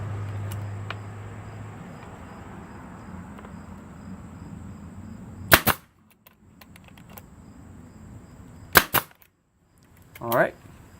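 A nail gun pins wooden clapboard siding during a crack repair. Two sharp double snaps stand out several seconds apart, close and loud over a low background hum, with a brief voice near the end.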